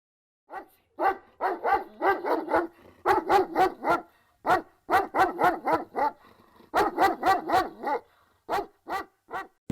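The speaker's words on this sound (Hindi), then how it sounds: "दूर एक कुत्ते की भौंकने की आवाज आती है" A dog barks in repeated bursts of quick, sharp woofs with short gaps between them, clear and fairly loud with no other sound.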